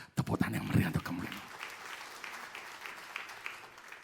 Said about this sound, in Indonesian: Tepuk tangan yang meriah untuk kamu.